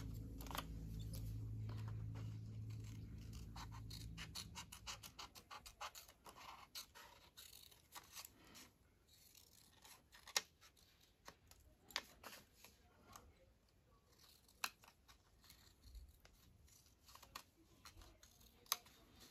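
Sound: scissors cutting painted paper collage

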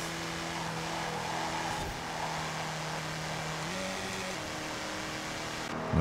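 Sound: rear-engine car racing in video game Forza Horizon 4

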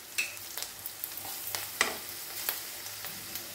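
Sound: green chilli, ginger and garlic frying and stirred in a pan

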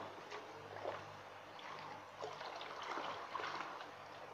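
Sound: water being mixed to dissolve NPK fertilizer

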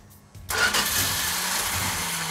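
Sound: 1972 Plymouth Duster 340 engine cranking and starting

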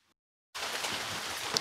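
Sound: rain while driving

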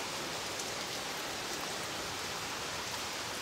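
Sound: rain falling at Buddhapadipa Temple, London

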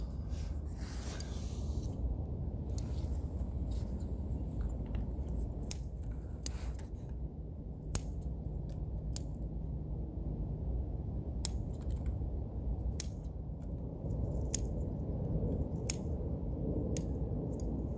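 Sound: scissors trimming needles on a Japanese black pine bonsai

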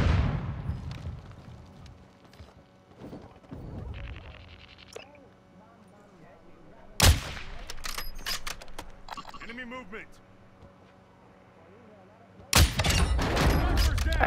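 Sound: gunfire in the video game Call of Duty: Modern Warfare II

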